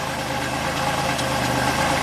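A 1985 Oldsmobile engine idles rich in open loop with a partial miss on one cylinder from a bad gasket, a steady low rumble with even pulsing close by, no talking.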